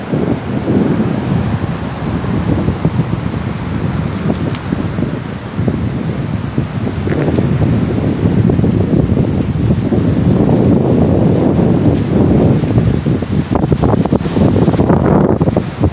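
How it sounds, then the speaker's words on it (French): Strong wind buffets the microphone on a beach in Ghana in a continuous low roar, with a faint wash of surf beneath; no one speaks. "La plage est propre, il y a le vent."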